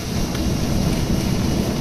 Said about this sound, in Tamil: அங்கங்கே மழையும் தூரி இருக்குது.